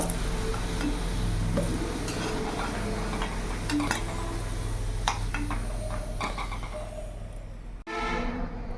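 Whole cumin, whole garam masala and dried red chillies sizzle and crackle in hot oil with occasional scraping stirs, under a heavy low rumble of a passing train.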